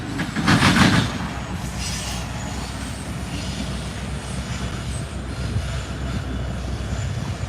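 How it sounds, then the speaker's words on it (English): A northbound Union Pacific freight train of loaded grain hopper cars rumbles past outdoors, a steady, dense roar with a louder swell near the start, no talk. "a northbound Union Pacific grain bulk, which is really weird because I've never seen one heading north with loaded grain cars"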